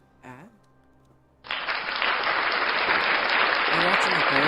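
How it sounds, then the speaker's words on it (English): Applause during a casual gaming stream, arriving abruptly after a short spoken word and then holding as a loud, steady, bright hiss of clapping until the end. "we'll give you a round of applause"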